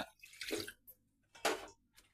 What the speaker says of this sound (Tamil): அதில் வந்துட்டு தேவையான அளவு தண்ணி ஊற்றிக்கோங்க